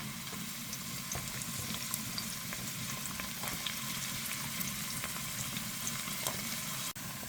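A steady, dense sizzle of chopped onion frying in a pot continues throughout, with faint stirring clicks and a brief knock near the end.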